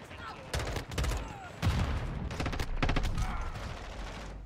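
Gunfire in Modern Warfare 2 erupts in loud close bursts and rapid volleys with heavy low booms, broken by short gaps, with some talk from players mixed in.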